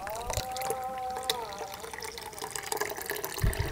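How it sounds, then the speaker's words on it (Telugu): Tamarind water pulp-strained liquid poured into a bowl for village-style pani puri, a steady trickling, splashing pour running throughout, close and moderately loud, with faint background voices and a thump near the end. "ఇప్పుడు పులుసు తీసి ఇందులో పోసుకుంటున్నాను."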